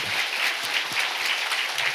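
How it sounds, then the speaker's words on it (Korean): A church congregation applauds to glorify the triune God at a New Year prayer service, producing a loud, steady burst of many hands clapping with a few thumps beneath it. "성삼위 우리 하나님께 영광의 박수 보냅시다"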